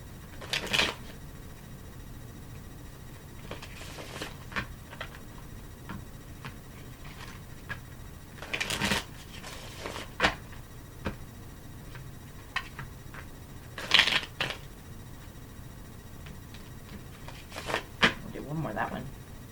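Tarot cards shuffled by hand in bursts of crisp riffling and light slaps, near and fairly quiet, with pauses between shuffles and no talking.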